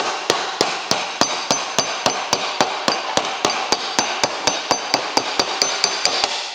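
Sharp metallic hammer blows strike sheet metal for tail lights on a 1974 Dodge Charger in a fast, steady rhythm, about three or four hits per second, close by and loud.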